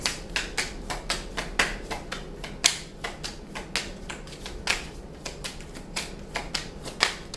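Steady riffle shuffling of tarot cards, quick papery flicks and taps in an uneven rhythm, close and clear with no talking.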